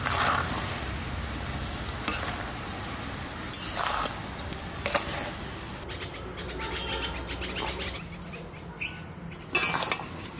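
Jujube fruits stirred in melted jaggery in a home kitchen pot, a steady soft bubbling simmer with intermittent scraping strokes of the spoon against the pan, no talking.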